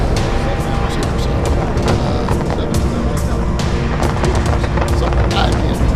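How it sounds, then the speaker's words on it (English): New Year fireworks going off outside, a dense continuous crackle of sharp pops and booms at moderate distance, with a person's voice faintly underneath. "Can't hear over the fireworks."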